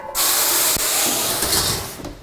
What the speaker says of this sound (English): It's that blast of steam that is going to keep that dough kind of like pliable so that it can expand as much as possible in the oven.